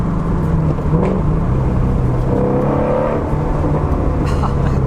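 A 2020 Shelby GT350 pulling hard in second gear, its engine giving a steady, loud, droning roar that holds evenly throughout with no talking over it.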